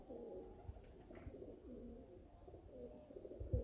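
Domestic pigeons kept by a breeder cooing softly and steadily, with repeated low murmuring calls throughout, a few faint thumps near the end.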